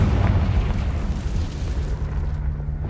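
A Confringo fire spell blasts in Hogwarts Legacy, a loud, sustained rumbling explosion that fills the whole moment with deep, roaring low-end energy before tapering slightly.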